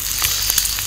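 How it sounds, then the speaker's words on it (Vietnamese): Sizzling crackle of icy food in a Vietnamese ice-food ASMR setting, a steady hiss with several short sharp crackles, close and loud. "bạn nghe tiếng xèo xèo không?"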